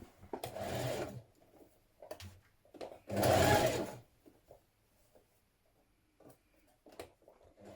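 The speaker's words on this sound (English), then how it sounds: "we're going to stitch that to the top piece now" A sewing machine stitches a facing onto the top piece of a gathered top in two short bursts of rapid whirring, separated by quiet handling and small clicks, close with no talk.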